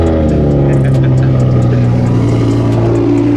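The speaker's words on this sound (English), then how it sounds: "first cold start in the R8 in Tennessee" An Audi R8 engine fires on a cold start and holds a loud, deep, steady idle close to the microphone, rumbling alone with no voices.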